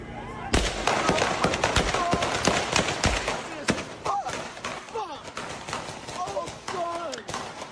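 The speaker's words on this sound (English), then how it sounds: "Here's video of the shooting." Gunshots from a shooting, several sharp cracks in quick succession over a busy background, with people talking and some shouting voices throughout.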